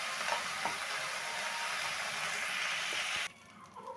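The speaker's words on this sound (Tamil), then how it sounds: "இப்போ பாருங்க, கருவேப்பிலை நல்லா வதங்கிடுச்சு" Curry leaves sauté in a pan for curry leaf rice, making a continuous close sizzle with faint stirring scrapes that stops abruptly near the end and gives way to quiet room sound.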